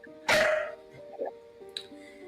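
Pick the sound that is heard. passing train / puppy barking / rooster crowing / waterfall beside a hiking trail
puppy barking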